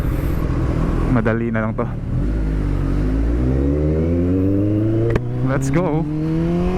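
A Kawasaki ZX14R motorcycle engine revs hard and accelerates, its pitch climbing steadily and loudly close by, with a rider speaking briefly over it.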